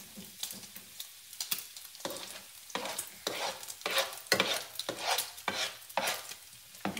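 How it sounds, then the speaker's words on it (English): Bacon grease sizzles and crackles loudly in a pan, steady frying hiss with bursts of popping and occasional stirring scrapes, close up, no voices. "now that I've got my bacon thoroughly cooked, and I got all that grease, which I need"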